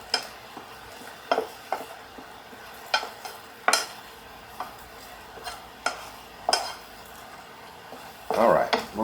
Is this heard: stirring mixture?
yes